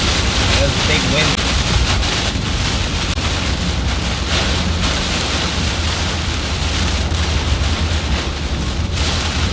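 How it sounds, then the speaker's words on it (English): Strong wind roars steadily across the microphone during a storm chase amid flash-flooding conditions, a dense continuous rumble with rain-like hiss that never lets up over the whole stretch. "There's a big wind."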